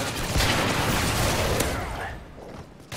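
Gunfire from the survival shooter Survival SP Terminal Escalator: dense, continuous bursts of shooting filling most of the clip, loud and close, thinning out near the end.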